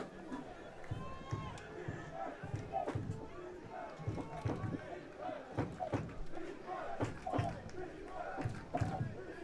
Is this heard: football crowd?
yes